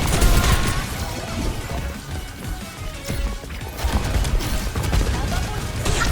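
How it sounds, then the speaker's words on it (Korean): Rapid bursts of Overwatch 2 gunfire crackle densely over a busy mix of impacts and effects, loud and nearly continuous throughout. "오버프 받을 때 총소리 바뀌는 거 마음에 들어요"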